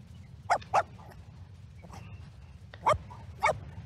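Paco the dog in a video game barks in two quick pairs of sharp yaps, with a soft bark between them, over a low steady background hum.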